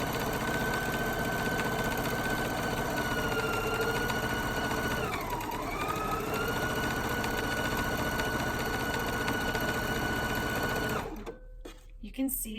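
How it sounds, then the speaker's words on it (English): Sewing machine with a gathering presser foot running a long gathering stitch, whirring steadily and close for about eleven seconds with one slight dip partway through, then stopping. "So I'm just going to lower my presser foot and sew."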